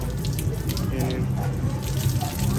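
Water pours and splashes steadily as a man is bathed half-body outdoors, a close, continuous running-water sound with people talking faintly underneath.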